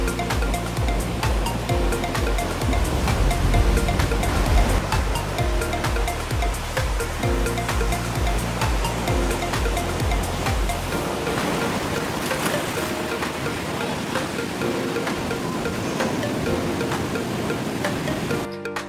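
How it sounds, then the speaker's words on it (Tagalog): Sea waves wash against the shore in a continuous loud rush with wind noise, steady throughout and with no voices. "So, ito yung dagat."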